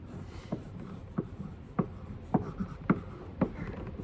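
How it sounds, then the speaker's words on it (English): A marker scratches out the words of a kosher for Passover sign in short, separated strokes, quiet and close, with soft background hiss and no talking. "we gotta write kosher for Passover"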